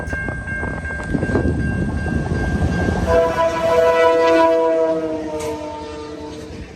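A freight train of 64 cars rumbles past close by, a steady low roar with sustained horn-like tones layered over the clatter of passing cars.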